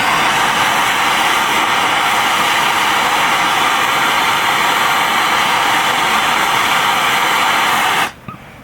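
A torch heats the cast iron around a Mopar water nipple with a loud, steady, close roaring hiss that cuts off abruptly just before the end.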